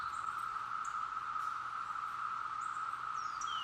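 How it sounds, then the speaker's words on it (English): A chorus of periodical cicadas in the North Georgia mountains makes a steady, unbroken high drone that holds without pause. It sounds fairly faint and distant, with no voices. "as you can hear, the cicadas are here"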